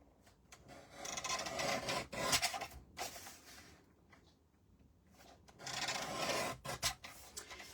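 Paper bookmarks are trimmed quickly at a craft table, giving close, quiet bursts of scraping and rasping cuts separated by short pauses.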